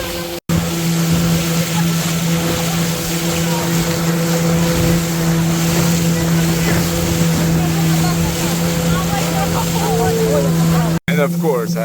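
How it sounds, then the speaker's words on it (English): Motorboat speeding along a river toward Angel Falls among tepuis, its engine a steady loud drone with water and wind rush throughout, a voice talking over it. "Man, this boat ride is so fantastic."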